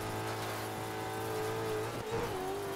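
A rally car engine in the racing game DiRT 2 revs hard and climbs steadily in pitch, a continuous loud buzzing drone with a brief gear-change dip before it rises again, with no talking.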